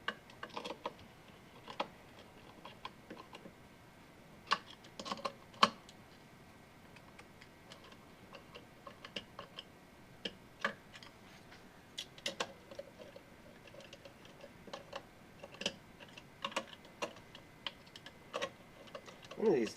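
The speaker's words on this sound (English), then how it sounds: "we're going to tighten that, and I'll have to use my trusty makeshift wrench here" A makeshift wrench tightens bolts on a Chevy Volt battery pack during a BC3300 repair, producing sparse, quiet metallic ticks and clicks scattered irregularly over a long stretch of near silence.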